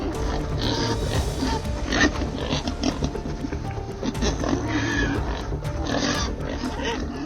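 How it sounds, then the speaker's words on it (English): A wild boar caught in trap wire panics and struggles, giving repeated loud squeals and grunts over several seconds with scuffling noise throughout. "When caught in the trap wire, the wild boar began to panic and tried to escape."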